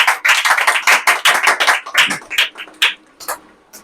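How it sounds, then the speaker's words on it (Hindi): Church congregation clapping together during a Sunday service, a dense burst of sharp hand claps that rattles on steadily, then thins into a few scattered claps as it winds down. "तो एक अच्छी ताली हो जाए"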